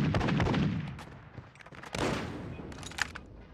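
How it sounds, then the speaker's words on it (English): Gunfire in the Call of Duty video game: loud bursts of shots with booming impacts, an opening volley, then a lull and a second flurry of rapid cracks and rattling fire. "He was shooting at a fence."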